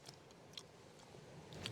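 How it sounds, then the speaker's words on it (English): Cooked limpets, foraged on the coast and cooked over an open fire, being chewed close up, with soft wet crunching and faint clicks repeating over a quiet background. "A lot of chewing."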